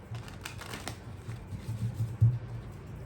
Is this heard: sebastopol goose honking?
no